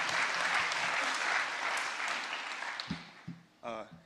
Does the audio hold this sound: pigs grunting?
no